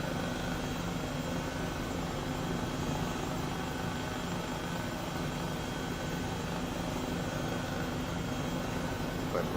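An Airbus H135 helicopter cruises in Microsoft Flight Simulator, its rotor and turbine making a steady, even whir with no breaks throughout.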